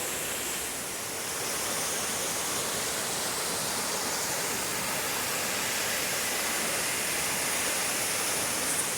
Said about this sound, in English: They call these waterfalls the cow sheds